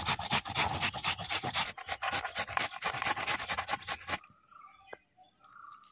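An ingredient for a traditional Tulu breakfast dish is grated by hand in quick, rhythmic rasping strokes for about four seconds, then the scraping stops, leaving faint kitchen sounds.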